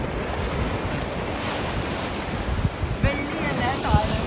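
Ocean waves wash steadily onto a beach at Kanyakumari, a continuous broadband surf roar with wind buffeting the microphone, and faint voices join near the end.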